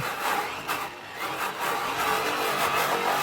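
A power polisher runs steadily against an acid-washed aluminum wheel, a dense whirring hiss close by, easing off briefly as the trigger is feathered around the valve stem.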